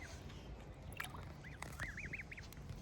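Several small, high chirping peeps from goslings, rising and falling in short arcs, set over a steady low rumble of background noise beside a canal.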